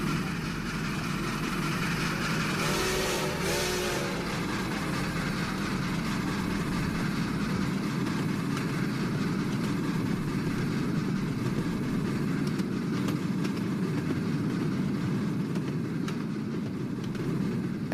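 Train engines idle on a branch line, a steady low diesel rumble and hum running throughout at an even level, with no speech.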